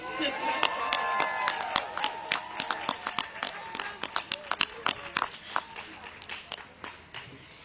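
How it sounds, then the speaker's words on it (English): A crowd at an outdoor voting rights rally applauds, a dense wash of clapping with cheering voices that thins out into separate, distinct claps toward the end. "Give my mom a round of applause"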